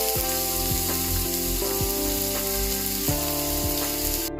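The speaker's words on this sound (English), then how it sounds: "Fry the onion until it is golden brown." Onion frying in a pan with cumin seeds, bay leaves and cinnamon, giving a loud, close, steady sizzle broken by a few scraping stir strokes and a faint background hum.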